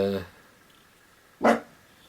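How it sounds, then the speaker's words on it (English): A dog gives one short, loud bark partway through, coming after a brief burst of a voice and a quiet pause, and then the room falls still again. "oh, my dog's barking."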